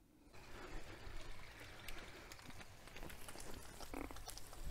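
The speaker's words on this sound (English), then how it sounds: "So the water's running freely out the hose now, out of here." Water runs freely out of a garden hose connected to a Karcher pressure washer, a steady broadband trickling hiss that continues throughout with no talking.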